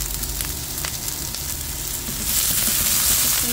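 Onions sizzle and fry steadily in a hot pan for a stir-fry of snow peas and kikiam, the crackle swelling louder and brighter partway through, close and continuous with no talking.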